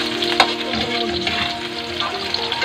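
Afritada ingredients sauté in a hot pan until browning, a steady close sizzle and crackle of frying running throughout with a brief sharper spatter near the start.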